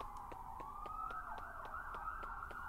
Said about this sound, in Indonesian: Kenapa nih ada suara polisi?